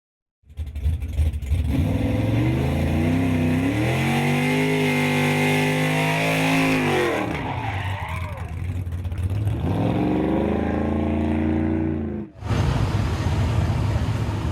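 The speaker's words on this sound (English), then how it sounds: "That is the Dodge drag pack vehicle." A Dodge drag pack car engine starts up and revs hard at a Woodward Avenue event, a loud close roar climbing and falling in pitch, dipping briefly near the end and then resuming.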